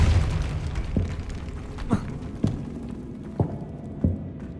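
Depulso spell blasts in the video game Hogwarts Legacy, five or six separate thumping bursts at roughly half-second to one-second intervals over a low rumbling background, moderately loud.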